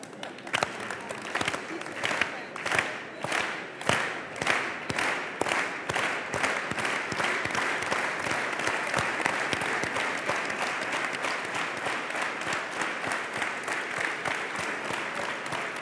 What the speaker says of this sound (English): How about an organized applause?